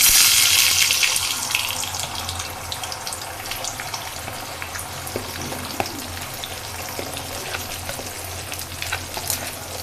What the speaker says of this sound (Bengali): আমি ডিমটারে প্রথম ভাজে নিলাম।